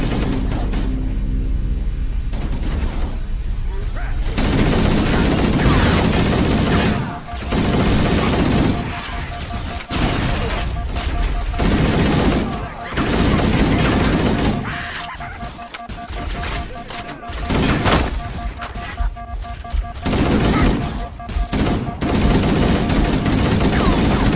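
Rapid gunfire crackles through a Halo Anniversary battle, dense bursts of automatic shots stacked over game noise and in-game voices, loud and nearly continuous with brief dips.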